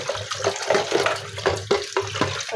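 Chopped onions, green chilies and vegetables being rinsed together in water, with repeated splashing and sloshing in uneven bursts close by, no voices.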